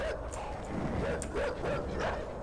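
Dogs in the video game INSIDE give yips and whimpering barks, a few bursts over a steady, noisy rumble in the background.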